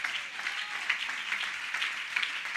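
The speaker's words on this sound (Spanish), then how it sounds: "Alguien aplaudió la gloria de Dios" A church congregation applauds in a steady, sustained patter of many hands clapping at once, moderately loud with no pause.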